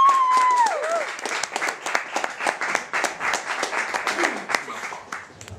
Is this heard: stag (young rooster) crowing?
no